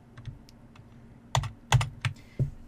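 Typing on a computer keyboard while entering a number in Tinkercad: a few soft clicks, then four sharp, close keystrokes in uneven rhythm near the end, alone without talk.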